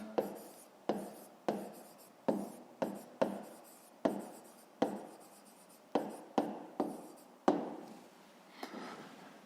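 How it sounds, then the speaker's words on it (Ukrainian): A pen writes by hand in a notebook during a maths exercise, making close, quiet scratching strokes in short rhythmic bursts with small pauses between them. "записуємо відповідь, пишемо відповідь"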